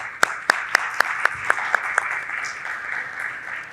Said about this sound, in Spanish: Les recibimos con un fuerte aplauso.